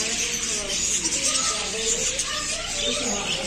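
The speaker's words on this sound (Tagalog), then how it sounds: "Daming ibon guys, mga parakeet" Parakeets and other caged birds at a large pet market in Saudi Arabia chirp busily in a constant high twittering, over a bustling indoor background with voices nearby.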